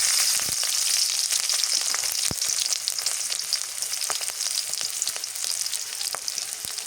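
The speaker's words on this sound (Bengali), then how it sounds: "এখন পাটের শাক ভাজি করি। পেঁয়াজ রসুন দিয়ে দিই, কাঁচামরিচ," Jute leaves frying with onion, garlic and green chilli in a pan, a steady bright sizzle throughout with scattered pops and crackles, close and alone without talk.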